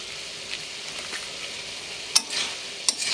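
Turmeric, cumin and coriander powder fry in hot oil while being stirred, a steady sizzle with a few sharp scrapes of the spoon, close and alone with no voices.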